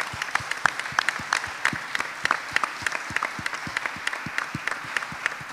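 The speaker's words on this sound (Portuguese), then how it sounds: "Muito obrigado e um aplauso grande para eles." An audience at a science meeting's plenary session gives fairly sparse, rhythmic applause, individual claps clearly separated, moderately distant and steady throughout.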